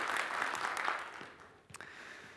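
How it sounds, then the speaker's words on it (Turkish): Studio audience at a Mevlid recitation contest gives a short burst of applause that fades quickly, faint and brief, with a few sharp claps at the end. "Alkışlar eşliğinde sizleri uğurluyoruz"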